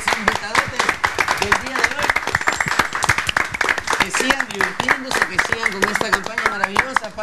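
Studio audience applause for guests on a Peruvian family TV show, steady clapping throughout with voices and music-like tones running under it.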